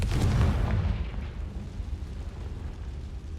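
The Confringo blasting spell in a Harry Potter-themed video game sets off a loud, deep explosion whose rumbling boom decays over a couple of seconds into a low fading roar.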